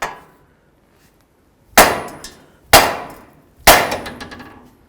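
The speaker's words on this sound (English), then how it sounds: "we're going to bonk right here on the knuckle with our hammer." A hammer strikes the steering knuckle of a 2008-2018 Chrysler Town & Country to free the tie rod end: three loud, sharp metallic clangs a second apart, each ringing out briefly. The clangs follow a quieter tap.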